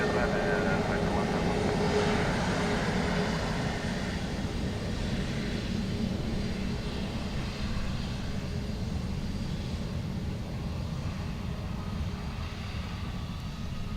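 A Ryanair airliner lands on runway 2 left at Dublin Airport in a gusty crosswind. A steady, loud broadband engine roar fills the whole stretch, with faint voices underneath.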